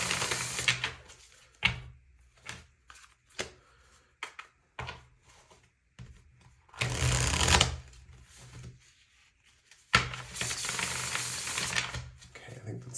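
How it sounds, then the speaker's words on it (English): Tarot cards get shuffled in quick rustling bursts and soft taps, with a couple of longer riffling runs between short pauses, close-up and fairly quiet. "Let's do one quick side shuffle."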